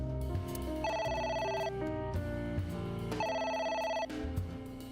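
A telephone rings in the AI: The Somnium Files video game, two bursts of a bright, repeating electronic bell tone that plays loud and alone over a steady backdrop.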